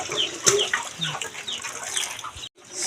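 Chickens cluck in short, repeated calls close by on a rainy farm, with a brief drop to silence near the end before the sound resumes.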